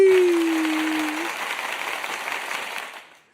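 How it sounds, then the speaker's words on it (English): Broad applause fills the space, steady then fading out, with a brief ringing tone at the start. "Got to clap it up for the Sox"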